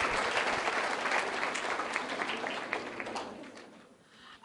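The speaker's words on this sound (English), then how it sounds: "A big round of applause for all our student volunteers and advisors." A crowd at an event applauds student volunteers and advisors: dense, steady clapping that holds strong for several seconds, then thins and fades toward the end.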